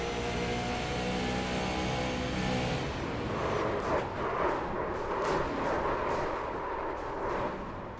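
Onboard race car engine from a sim racing game, a Super Late Model at New Hampshire Motor Speedway, droning steadily and then breaking into choppy, rhythmic throttle blips, loud and close.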